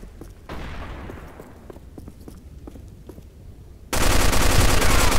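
Glock pistol gunfire in the video game Arctic Combat: a burst of close, sharp shots and rattling impacts, ending in a loud, sustained roar of firing.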